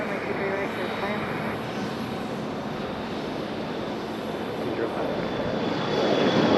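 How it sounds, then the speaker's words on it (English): An airliner takes off from runway 23 right at Raleigh-Durham International, its engine roar steady and loud before swelling further near the end, heard from a distance with faint radio chatter underneath. "runway 23 right, fly runway heading, clear for takeoff. It's an early rotation."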